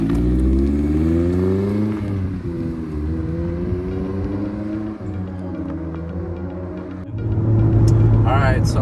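A Mazda Miata ND sports car on stock suspension drives through a canyon, its engine a steady close rumble that climbs and falls through the gears and swells louder as it accelerates near the end.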